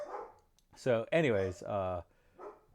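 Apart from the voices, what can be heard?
German Shepherd and Bichon dogs barking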